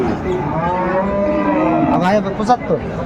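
A Sahiwal bull at a cattle market lets out a long, loud moo up close, followed by a shorter second low, with faint market bustle behind.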